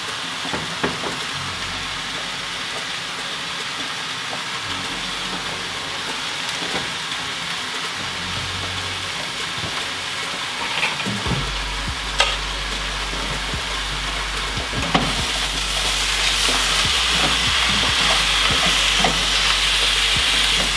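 Broccoli sizzles steadily in a frying pan while it is stirred, with occasional scraping clicks and a hiss that grows louder toward the end; no one speaks.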